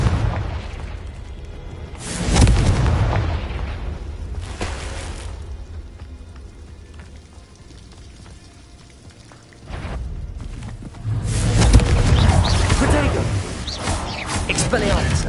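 Confringo fire spells explode in the video game Hogwarts Legacy, producing a couple of heavy booming blasts with rumbling tails, separated by quieter in-game ambience and other effects.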